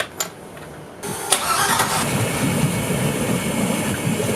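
A brand-new boat engine cranks briefly, then catches and settles into a steady, loud running drone that fills the rest of the clip, with no talk over it.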